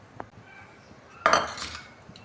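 A metal tawa griddle is set on a gas stove for shallow-frying tikki, with a faint early clink and then a louder metallic clatter midway that fades into quiet kitchen background.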